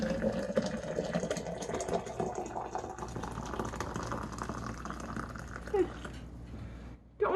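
Hot water from a kettle pours steadily into a container for camp coffee outdoors, a continuous splashing, bubbling rush that fades out near the end, moderately loud and close.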